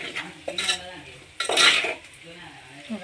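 A spoon stirs egg curry in a pot on a stove turned low, scraping and clinking against the metal in a few distinct strokes with soft sizzling between them, close and moderately loud.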